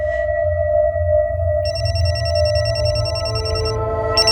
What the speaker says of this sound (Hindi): मैंने उसको फोन लगाया मेरी मोबाइल से